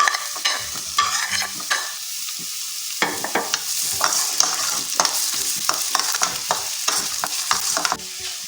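Small chopped onions frying in oil give a loud, close crackling sizzle, with frequent spatula scrapes and stirring clatter in an irregular rhythm. A short quieter gap comes before the frying surges back, and there is no talk.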